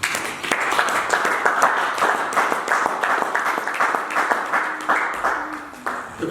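A church congregation claps steadily in a dense, sustained round of applause with scattered cheers, close and loud throughout, while a voice calls out over it.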